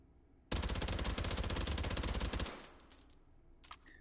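Early-model Uzi open-bolt submachine gun with a wooden stock, fired in a VR game: a loud, sustained full-auto burst of about two seconds, rapid and steady, then mechanical clicks and handling noises afterward, no talk.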